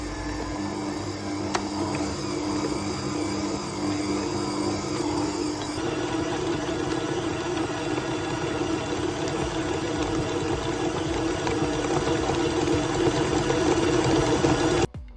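An electric mixer kneads bhatura dough with a steady, loud motor whir and churning that runs without a break and gets slightly stronger and busier partway through as the speed is raised.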